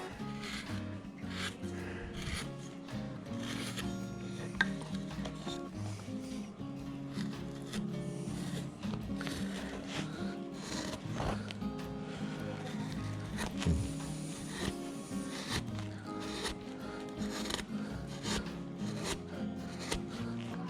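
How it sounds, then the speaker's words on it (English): A soft V gouge scrapes and rasps through wood in repeated short strokes, a dry rubbing texture close at hand, while people talk intermittently. "Let me go in here with this old soft V now."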